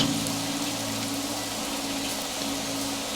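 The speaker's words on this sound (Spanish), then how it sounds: "Una lluvia ligera y fría empezó a caer." Light, cold rain falling steadily in a forest, a continuous soft broadband patter that stays even and close throughout, with no voices present.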